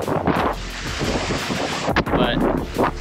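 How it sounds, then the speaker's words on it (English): Strong wind buffets the microphone on a Turks and Caicos beach, a loud, continuous rumbling roar with gusty swells and faint surf beneath. "It's very windy today."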